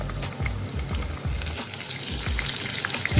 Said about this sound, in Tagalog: Hintayin natin siyang mag-fry ng konti, guys.